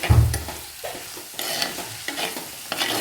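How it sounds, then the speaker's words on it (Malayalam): Onions and masala for an egg curry are sautéed and stirred in a pan until brown, with repeated close scraping strokes of a spoon over a low, steady frying sizzle. "നല്ല ബ്രൗൺ നിറമാകുന്നത് വരെ നമ്മൾ വഴറ്റിക്കൊണ്ടിരിക്കണേ"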